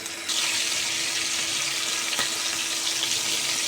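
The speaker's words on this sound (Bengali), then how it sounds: "চিকেনগুলো ছেড়ে দিয়েছি এপিটোপিট করে হালকা রং আসা পর্যন্ত ভেজে নেব" Chicken pieces drop into hot oil and break into a loud, steady broadband sizzle that starts abruptly and holds evenly, close up, with no voices.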